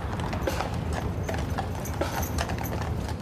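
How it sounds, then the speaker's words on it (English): Steady clip-clop of hooves on pavement as a horse-drawn caisson moves through a city street during an officer's funeral procession, with a faint mechanical creak and light background murmur. "the clip-clop on pavement of a horse-drawn caisson carrying a fallen officer to his final call of duty"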